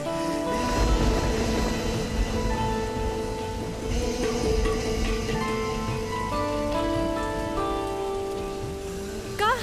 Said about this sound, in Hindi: देखिए कितना बारिश हो रहा है।